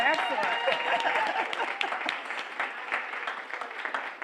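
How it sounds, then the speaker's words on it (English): A live audience applauds a conference moderator at a commemoration event, a dense, sustained clatter of many hands clapping at moderate distance that gradually thins toward the end, with a voice faintly mixed in. "let's give our moderator a round of applause"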